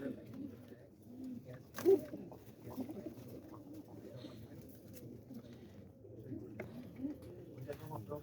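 Pigeons coo softly in a loft while a batch of them is counted, low murmuring calls running through the whole stretch with a sharper flutter or call near the start and background voices talking.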